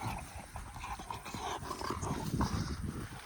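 Taigan hunting dogs move about with scuffling, panting and soft footfalls, close by and fairly quiet, with no voices.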